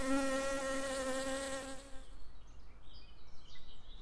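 Honey bees buzz steadily in a busy hive, a strong harmonic drone for about two seconds that then cuts off, leaving only faint, scattered buzzing and chirping.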